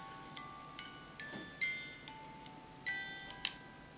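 A repaired, formerly overwound music box plays a sparse run of bright plucked comb notes, each ringing briefly and decaying, spaced about half a second apart, close and quiet with no talk.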